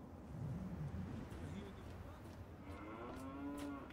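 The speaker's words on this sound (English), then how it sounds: "I heard a moo." A cow lows once in the Fallout 3 video game, a drawn-out moo rising over a soft ambient bed of low rumble, moderately close but not loud.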